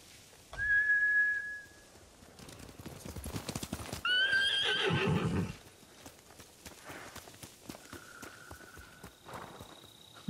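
Horses whinny loudly twice amid quick clip-clopping hooves in the video game Ghost of Tsushima, followed by softer hoofbeats and a few whistled tones fading into the background.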